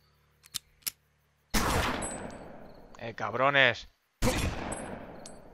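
Two loud shotgun blasts in the video game Omerta: City of Gangsters, each a sharp boom with a long decaying tail, separated by a shouted exclamation, after a few faint clicks.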